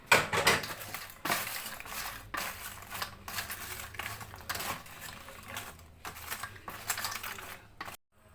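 Cake batter for a vegetarian kek batik being stirred in a mug, a close, steady scraping and clinking with rhythmic strokes over about eight seconds, with no talking.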